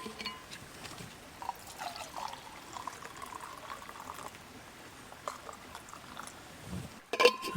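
Hot water brought from home is poured into a camping billy outdoors, a quiet trickling pour that fades in and out before a sharper clunk at the end.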